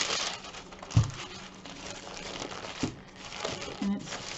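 Wax paper around sugar cookie dough crinkles and rustles as the wrapped dough is handled, with a few sharper crackles standing out from softer intermittent rustling, close by.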